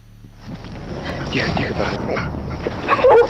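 A dog barks and yips at close range, with the sound rising to a louder burst near the end, heard within a muffled, noisy recording alongside faint voices.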